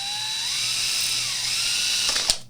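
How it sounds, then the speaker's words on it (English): A power drill whirs steadily at close range to crack open a beer can, its pitch climbing slightly before a sharp snap as the bit breaks through, then the whine cuts off. "you crack a can with a drill"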